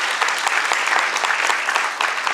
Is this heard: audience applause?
yes